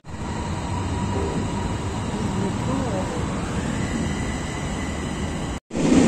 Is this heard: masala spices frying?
no